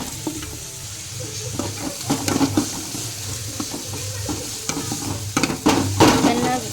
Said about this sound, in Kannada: ಗ್ಯಾಸ್ ಸ್ವಲ್ಪ ಜೋರು ಮಾಡ್ಕೊಂಡು ಚೆನ್ನಾಗಿ ಹುರ್ಕೊಳ್ಳೋಣ